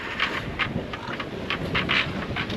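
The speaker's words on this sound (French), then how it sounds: "Le vent monte." Steady gusting wind roars across the microphone aboard a sailboat in the Strait of Gibraltar, broadband and continuous, with a low rumble and repeated brighter gusts swelling and fading.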